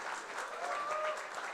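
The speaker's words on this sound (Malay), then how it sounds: "Satu tepukan untuk mereka." Audience applause at a Malaysian direct-sales business event, a steady, dense wash of clapping from a sizeable crowd lasting the whole moment at even loudness.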